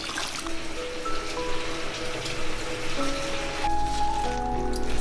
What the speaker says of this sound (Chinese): 腌好的玉梗，我们用清水给它刷洗一遍。